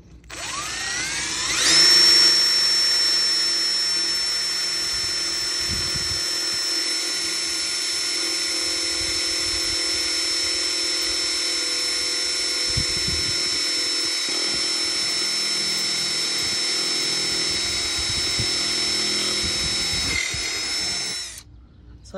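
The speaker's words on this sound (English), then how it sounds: "I'll drill my next pilot hole." A power drill whines steadily for about twenty seconds drilling a pilot hole, spinning up sharply at the start and winding down at the end, close and loud with no talk.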